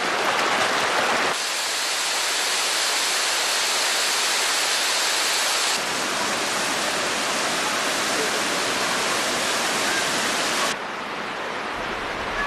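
Hot spring water cascading down falls in Jordan, roaring as steady broadband rushing that fills the clip, loud and close, with brief shifts in intensity and no voices.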